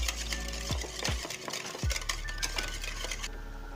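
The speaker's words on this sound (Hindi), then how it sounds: "अब मैं इसको ऐसे अच्छे से फेंट लूँगी।" Cream sweetened with powdered sugar being whisked in a bowl, with several distinct clinks of the utensil against the bowl and a soft continuous stirring scrape, fairly quiet and close.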